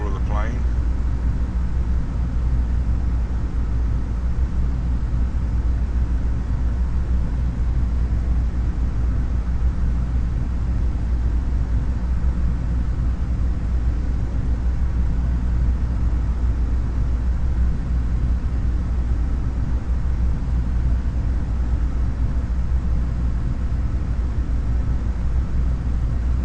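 Airplane engine rumble in the Prepar3D flight simulator: a loud, steady low drone with broadband hiss that holds unchanged for the whole stretch.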